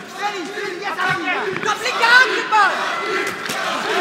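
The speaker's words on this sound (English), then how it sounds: "you could hear his fans in the audience applauding that maneuver" An MMA crowd at a fight event in Frankfurt cheers and shouts in a continuous, lively roar of many voices, with rising whoops and a few sharp bursts.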